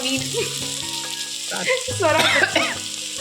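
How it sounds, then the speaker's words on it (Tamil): Onion, garlic and ginger fry in oil in a pan for a shark fish puttu, giving a steady, close sizzle that rises briefly as the mix is stirred. "நல்லா வதங்கிடுச்சு வெங்காயம் பூண்டு இஞ்சி எல்லாம் நல்லா வதங்கி பாருங்கள் எண்ணெய் கொஞ்சம் பிரியிற மாதிரி வந்துடுச்சு"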